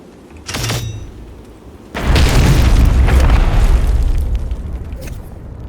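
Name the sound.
video game explosions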